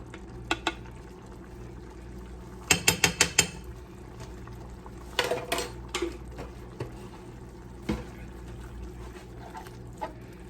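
Scraping and clacking of a utensil stirring minced garlic into ground turkey in a pan, in a few short bursts of clicks between quieter stretches, close and moderately loud.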